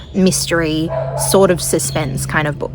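Dogs bark outdoors in the background, with short yipping barks scattered under a person's continuous close talking.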